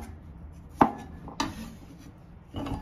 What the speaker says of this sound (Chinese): 把这个土豆切一下